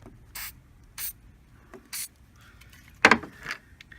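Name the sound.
spraying lubricating oil on a car hood latch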